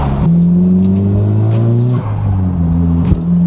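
Nissan S15 Silvia with only a resonator exhaust revs hard and close, its steady engine drone dropping sharply twice as revs fall, with a sharp pop as it shoots a flame.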